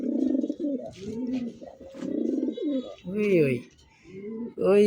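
An army-coloured Mukhi pigeon pair coos in repeated throaty, rolling calls, close and fairly loud, with short pauses between bursts and a brief higher chirp near the end.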